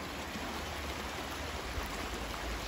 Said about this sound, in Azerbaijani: Gözəl bir yay yağışı yağır.